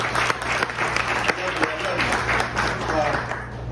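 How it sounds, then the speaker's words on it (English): Applause from an audience at a New Delhi restaurant's 33rd anniversary event, steady clapping through the whole stretch with a voice speaking over it. "give my sister Carmen a round of applause."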